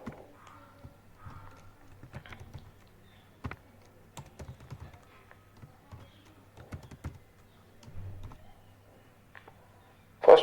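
Keyboard typing while an SQL insert query is written for a PHP and MySQL database connection: quiet, irregular clicks and short bursts of keystrokes, fairly close and with no talking.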